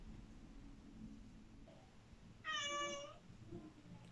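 A house cat gives a single clear, fairly close meow against quiet room background noise, with a faint higher squeak just before it.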